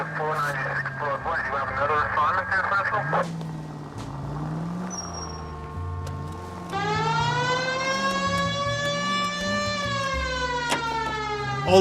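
A police siren in the video game L.A. Noire wails, rising and holding steady tones amid engine and street noise, with talking over parts of it.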